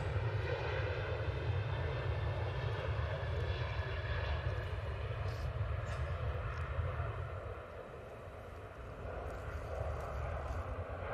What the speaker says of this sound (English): on this other runway, we have the Ryanair going out.